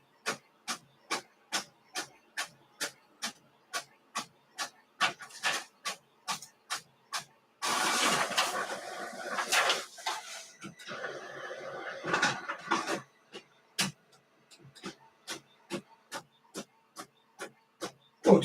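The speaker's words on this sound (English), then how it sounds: "I have no idea what the hell's printing right now." Printer running through multiple sheets, a steady series of sharp mechanical clacks at a regular pace, interrupted midway by a longer whirring, hissing feed and grinding stretch, then resuming its ticking rhythm, close and alone.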